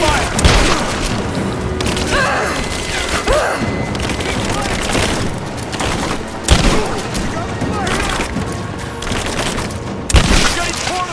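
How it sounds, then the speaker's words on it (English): Heavy gunfire in the Rise of the Tomb Raider video game, with dense volleys of shots and booming impacts crackling throughout, loud and close, while shouted voices cut in over the battle. "I'm taking fire!"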